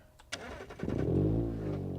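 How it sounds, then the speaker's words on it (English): In the BeamNG.drive driving game, the starter cranks a Bruckell LeGran 2.5 S with manual transmission, a short whirring crank then a catch into a loud, rising idle that settles into a steady engine hum, close up. "fire up this little car"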